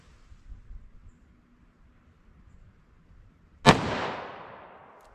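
A single sharp gunshot from a short-barrel .357 Magnum firing a 135 grain round, loud and close, cracking out after a few seconds of quiet and ringing off into a fading tail.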